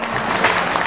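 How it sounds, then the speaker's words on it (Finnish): Spectators clap for a dog at a weight pulling competition, giving a short, dense burst of applause from a crowd. "Hyvä Dana, aplodit Danalle"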